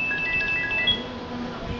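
A mobile phone rings on an incoming call that controls a DTMF robot, a thin electronic tone repeating in short beeps over a steady low hum, fairly quiet and with no one talking.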